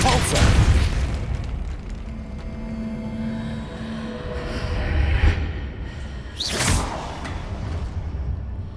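Depulso spell cast in the video game Hogwarts Legacy: a few whooshing booms burst out near the start and again in the middle, over a steady background of game ambience.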